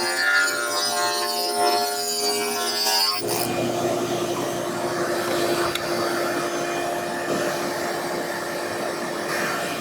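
A vacuum cleaner runs steadily as a loud, constant whine in a workshop where shelves are being converted to drawers, preceded by a few seconds of a harsher, broadband machine roar before settling into the even drone.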